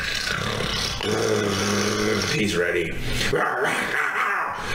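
A pack of hundreds of wild primordial dogs snarls and barks in a dense, continuous growl, with a voice speaking over the din.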